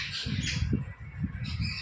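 Several birds squawk and chirp close by in a household setting, short harsh calls repeating through a steady broadband backdrop with no talk.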